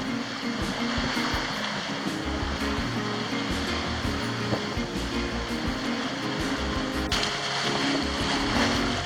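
A sailboat runs on the ocean off St. Augustine, Florida, with a steady wash of water and wind rushing around the hull, a faint tonal hum underneath, continuous and unvoiced.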